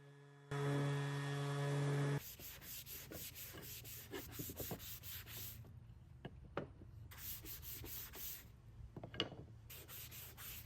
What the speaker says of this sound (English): I sanded those down with 80 grit and then followed through with 120 on a sanding sponge